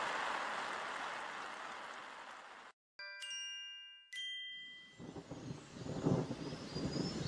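Thunderstorm and rain sound effect in a children's story: a steady, dense hiss of rain breaks off into silence, then bright chime-like ringing tones, before rumbling, gusting storm noise returns and swells.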